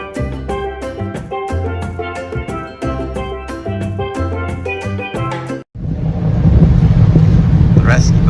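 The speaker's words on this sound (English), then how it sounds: "The rescue boat's here." A rescue boat draws up on open water off Ocean Cay, a private island in the Bahamas. Its engine roars loud and steady close by, with wind buffeting the microphone, and the first part of the clip has music playing before it.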